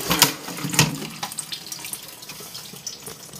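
A tap runs water in quick splashing bursts, two stronger gushes early followed by lighter trickling and splatter, close and without talk.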